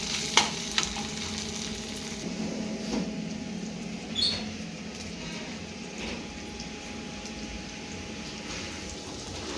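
Ginger garlic paste fries in oil for a simple chicken curry, making a steady low crackle and sizzle with a few early clinks and an occasional stir, close and unaccompanied by speech.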